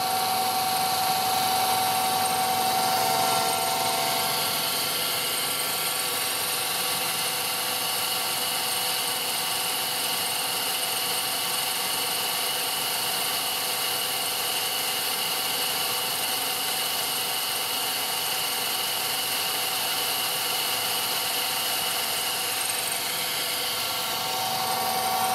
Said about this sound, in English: It's basically a miniature cold saw right now